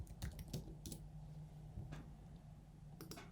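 Computer keyboard keys tapped in a few quick scattered bursts, close and quiet over a low steady hum, no one speaking.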